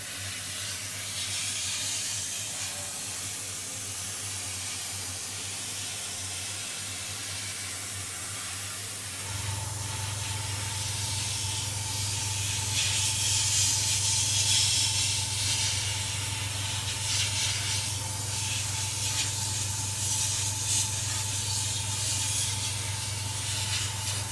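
A spray can or airbrush hisses steadily while repainting an old Hornby model train coach in a new livery. The spray is near and continuous and grows louder and fuller partway through, with no talking.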